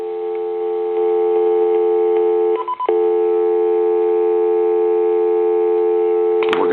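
A hand-carved wooden dragon telephone gives a loud, steady dial tone that a brief keypad tone interrupts once. A faint clunk of the handset follows at the end.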